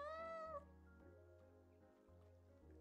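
A single short meow from a cat in the video game Calico rises over a low, steady musical hum and a soft background tone.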